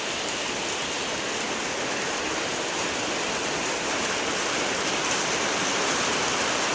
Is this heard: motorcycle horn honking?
no